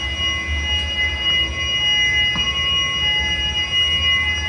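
A UPS battery backup unit sounds its battery-mode alarm after mains power is switched off, a high, piercing electronic tone that holds steadily over a low background hum.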